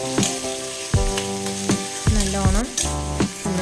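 Sliced onions being stirred in a hot pan for a lunch dish, a steady sizzle broken by several scraping strokes of the spoon against the metal, close and fairly loud, with no voices.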